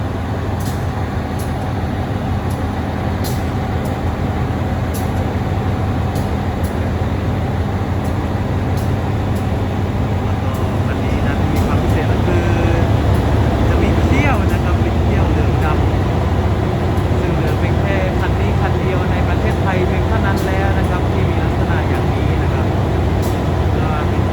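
A yellow-and-black SRT GEA 4540 diesel locomotive hauling a freight train, its low engine drone steady and loud throughout, with a broadband rolling roar that swells in the second half as the train passes close by.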